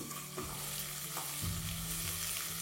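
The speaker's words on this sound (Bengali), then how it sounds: "এবার ফ্লেমটাকে মিডিয়াম করে ভালো করে এটাকে ভেজে নিন" Chopped garlic and ginger fry in oil over a medium flame for dahi bhindi, producing a short, steady, moderately quiet sizzle with soft stirring and no speech.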